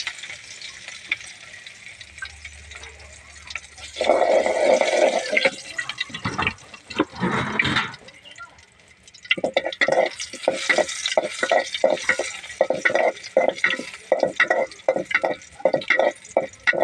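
Crushed garlic drops into hot oil and bursts into a loud, crackling sizzle, with bouts of stirring and clanking. A steady frying hiss continues after that, without speech.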